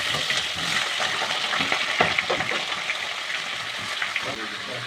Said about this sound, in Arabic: نشوح اللحمه معاكم وكده، نحط عليها ميه ايه سخنه تكون بتغلي